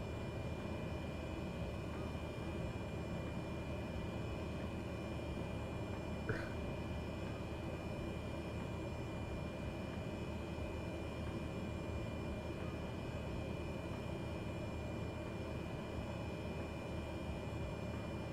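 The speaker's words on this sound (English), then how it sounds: "Start taxiing out." An airliner taxis in Microsoft Flight Simulator, its engines producing a steady, even jet roar and hum that continues without change through the whole stretch.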